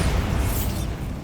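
A Bombarda blasting spell explodes in Hogwarts Legacy as one loud, sustained low boom that fades slightly over about a second, with no voices.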